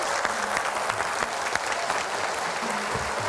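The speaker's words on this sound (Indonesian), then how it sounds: "Tepuk tangan yang meriah." A crowd applauds warmly to welcome the Jakarta governor at the city's 498th anniversary celebration. The clapping is continuous and even throughout, with a faint tonal backdrop underneath.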